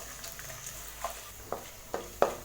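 Onions and cashews sauté in oil for mint rice as a soft background sizzle, broken by several sharp clicks and scrapes of a spoon against the pan that grow louder toward the end. No one talks.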